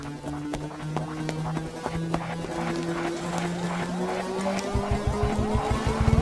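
A Scorpio SUV races along in a movie action scene: a steady engine drone with rising pitch, then a series of rapid rhythmic thumps toward the end, all fairly quiet under a busy mix.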